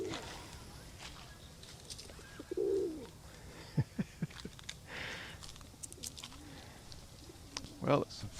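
Near a pond on the Osaka Castle grounds, pigeons give a brief low coo among scattered clicks, footsteps and soft outdoor noise, heard close and fairly faint.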